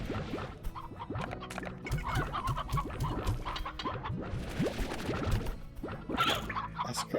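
Video game chickens cluck and squawk in a busy, overlapping stream of short calls, close and lively throughout, with no talking.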